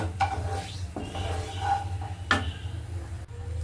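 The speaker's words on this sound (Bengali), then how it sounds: "মশলাটাকে ভালো করে একটু ভেজে নিচ্ছি সুন্দর একটা স্মেল আসার জন্য।" Whole spices and a torn bay leaf frying in a pan for vegetable pulao, with a soft sizzle under scraping stirs of a spoon against metal and a couple of sharper clinks, close and fairly quiet.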